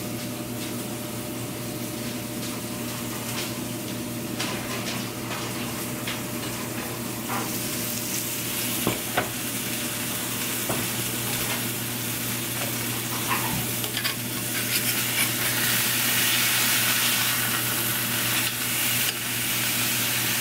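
A pan-seared rib-eye steak sizzles loudly in the pan after being flipped, a constant close frying hiss with small pops and crackles that swells slightly toward the end.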